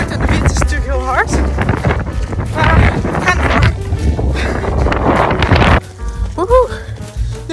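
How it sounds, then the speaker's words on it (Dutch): Strong gusts buffet the microphone in loud, rough bursts while a person speaks over the roaring wind outdoors. "de wind is natuurlijk heel hard."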